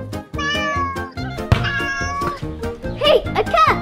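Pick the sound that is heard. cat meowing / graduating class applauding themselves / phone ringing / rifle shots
cat meowing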